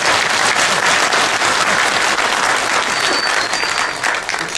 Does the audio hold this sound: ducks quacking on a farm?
no